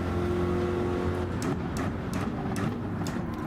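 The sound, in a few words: GT3 race car engine in Gran Turismo video game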